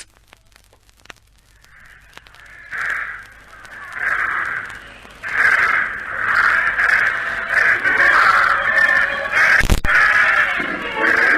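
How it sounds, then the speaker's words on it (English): Crows caw repeatedly after birds are sent up outdoors, harsh calls coming in bursts that grow denser and louder, with a sharp crack near the end. "Send those birds up, and I'll be off."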